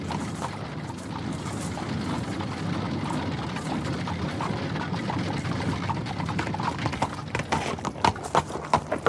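Horse hooves clip-clopping as a rider approaches from behind, starting under a low rumbling background and growing into sharper, louder, closer hoofbeats toward the end.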